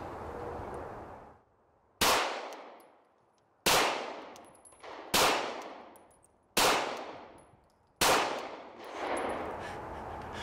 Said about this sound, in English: we're gonna draw, fire 5 rounds, strong hand only